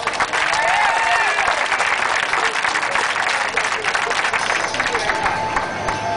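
Sustained, energetic applause from a crowd watching break dancers at Inner Harbor, Baltimore, during Sailabration 2012, dense clapping running the full length with occasional whoops and crowd murmur.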